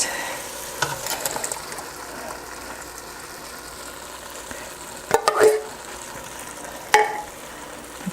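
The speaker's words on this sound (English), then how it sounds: "the next thing I'm going to do is to add my tomatoes to give it some liquid" Tomatoes being added to browned beef in a stove-top stew pot and stirred, with soft sizzling under scattered clinks and scrapes of a spoon against the pot, a few sharper bursts near the end.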